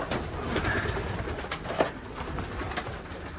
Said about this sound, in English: This is the girls and some younger unsexed pigeons.